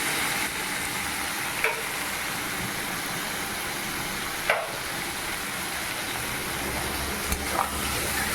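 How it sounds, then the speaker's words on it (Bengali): Mushroom masala sizzles steadily in a pan, a constant close frying hiss, while a spatula stirs it with a few sharp scrapes and knocks spaced through the clip. "ভালো করে একটু নেড়ে নিচ্ছি।"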